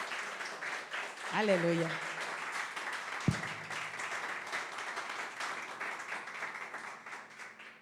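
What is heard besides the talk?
congregation applause in church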